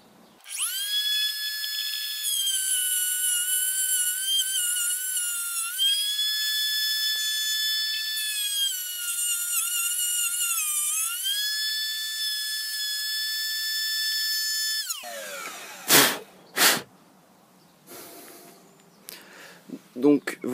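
A power cutter slices through a Nintendo GameCube motherboard in a sustained, loud high-pitched whine with wavering pitch for about fifteen seconds, then cuts off, leaving a few sharp knocks and handling clatter.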